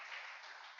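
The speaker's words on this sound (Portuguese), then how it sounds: "Aplaudam o Senhor" A church congregation applauds during a worship service, a steady even wash of clapping from many hands, moderately loud and continuous with no voice over it.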